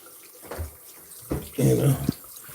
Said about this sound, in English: now I'm gonna rinse my face off